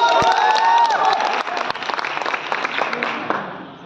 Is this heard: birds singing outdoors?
no